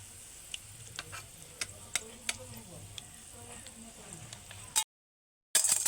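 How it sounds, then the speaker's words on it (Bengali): Lentils fry in oil in a wok for dal chanachur: a soft sizzle under a string of sharp clicking stirring taps, then a sudden gap of silence before the noise resumes. "সবগুলো ডাল কিন্তু ভাজা হয়ে ওপরের দিকে উঠে গেছে"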